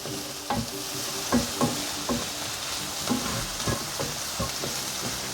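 Softened onion and pressed garlic sizzling in a frying pan for a quick chicken pasta sauce, a steady close fry broken by several sharp scrapes and clacks of a stirring utensil.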